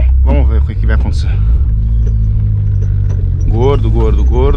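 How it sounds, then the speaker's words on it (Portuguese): A turbocharged Chevrolet Celta engine is blipped with light throttle, a steady mid-pitched rumble swelling and settling up close beneath someone talking over it. "Tô acelerando um pouquinho."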